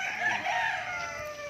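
Chickens on a farm in the late afternoon, with a rooster crowing in a drawn-out, wavering call and other fowl clucking faintly behind it, moderately close.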